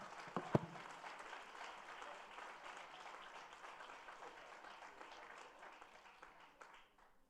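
Fairly faint applause at a regular meeting, a scattered clap or two at first and then a steady patter that slowly fades out.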